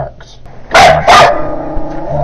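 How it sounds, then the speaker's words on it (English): A tiny yip dog of about six pounds, kept by a neighbor, gives two sharp, high, loud barks in quick succession, with quieter background noise before and after. "Not only does this dog constantly bark"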